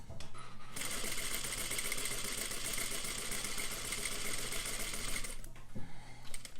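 A sewing machine stitches lines on paper, running steadily for several seconds with a dense rapid needle rhythm, then stopping for a few single clicks at the end.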